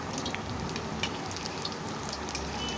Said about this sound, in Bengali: আমি এখন ওলটপালট করে চপগুলোকে একটু ভেজে নিচ্ছি।